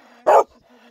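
A single loud, close puppy bark, one short burst standing out against faint background hum and quiet room sound.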